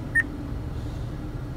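A single short electronic prompt beep from an Acura's in-car voice recognition system, clear and brief over a low cabin hum, followed by quiet.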